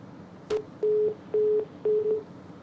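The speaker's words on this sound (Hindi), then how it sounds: "लगता है संपर्क टूट गया, दोबारा जुड़ने की कोशिश करेंगे" A telephone busy tone pulses over a dropped news phone line, four short steady beeps in an even rhythm after a brief click, clear against faint line hiss.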